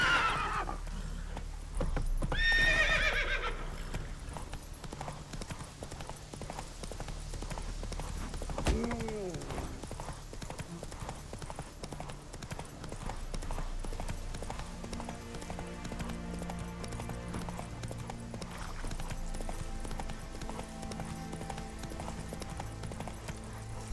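Horse hooves clip-clop at a run in The Witcher 3, a steady drumming gait with a whinny early on, heard beneath someone talking to the horse.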